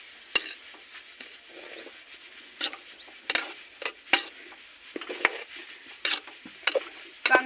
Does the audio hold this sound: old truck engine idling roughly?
no